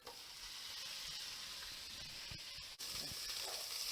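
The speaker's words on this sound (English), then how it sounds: "to that bacon grease, we're going to add in our steak and let that sear" Steak sears in bacon grease in a pot, a continuous close hiss and sizzle with a few soft knocks and a brief dip near the end, quiet overall.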